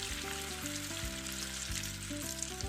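Spice paste thinned with water fries in a pan for a steamed egg curry, a dense continuous sizzle, close and even throughout, with a tonal background hum and no voices.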